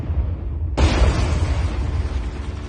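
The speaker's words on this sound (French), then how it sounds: "Les obus nous écrasent." Artillery shells exploding during the Paris Commune street fighting: a sudden loud blast erupts near the start and rolls on as a dense, sustained roar of detonations over a low rumbling background.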